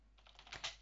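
Quiet typing on a computer keyboard, a handful of soft keystrokes in under a second, entering text while building a game.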